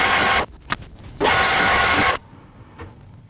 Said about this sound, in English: we're going to need to grind it into center